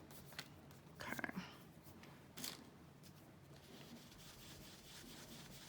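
A finger rubbing a small piece of dried gelato pigment off a paper journal page: soft, faint, close scratchy rubbing with a few brief stronger strokes near the start and middle.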